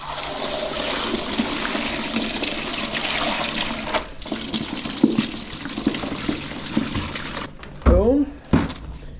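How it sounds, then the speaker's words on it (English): Water pours and trickles out of a minnow bucket through a holed kitchen colander on the ice at an ice-fishing camp, a steady rushing flow that breaks into splashes and drips near the end, with talk under it. "Dump your minnow bucket in it. It's got holes to let all the water through"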